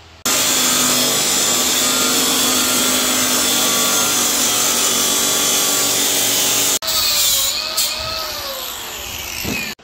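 A power tool runs loud and continuous while tightening U-bolts on an overland trailer lift kit, then cuts out abruptly and restarts in short, changing bursts with a wavering pitch.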